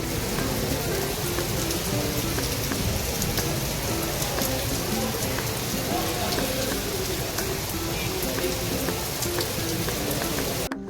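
Steady heavy rain pouring at the hill station of Saputara, a dense continuous patter on surfaces with scattered louder drips, close and unbroken throughout.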